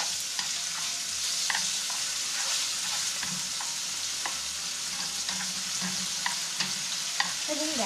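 Rice vermicelli and egg stir-fry in a hot pan, a continuous bright sizzle broken by repeated scraping and tapping of the spatula.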